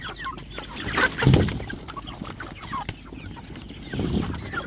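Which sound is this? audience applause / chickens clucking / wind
chickens clucking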